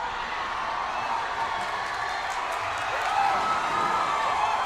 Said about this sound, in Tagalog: At maririnig niyo po ang hiyawan dito ng crowd